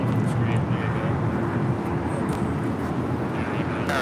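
Steady, broad roar of a Boeing 787 Dreamliner airliner at LAX, a continuous engine rumble heard from nearby over wind noise.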